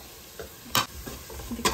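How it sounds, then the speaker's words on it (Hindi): Finely chopped carrot and capsicum sautéing in a pan for white sauce pasta: a low sizzle broken by a few sharp stirring scrapes and clacks of the spatula, close and fairly loud, with no talking. "अच्छे से इन्हें भी अब सौते करेंगे, अपने वेजीज को मिक्स करेंगे"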